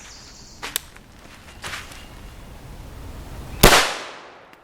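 Gunshots from a CZ Scorpion Evo 3 with a 7.72 inch barrel firing Tula 9mm 115-grain steel-case FMJ ammunition outdoors: two or three sharp cracks, with the final shot loudest and ringing briefly into a fading tail.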